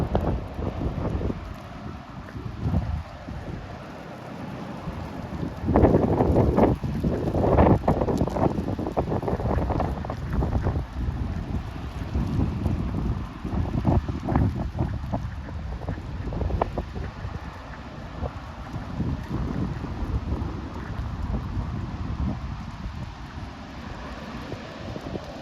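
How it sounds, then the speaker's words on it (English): Strong gusty wind of up to 50 mph roars across the microphone in Pullman, Washington, surging in loud buffeting bursts around six to eight seconds and staying a rough, continuous rush throughout. "Very strong 50-mile-per-hour gusts whipping through here."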